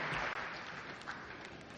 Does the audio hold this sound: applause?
yes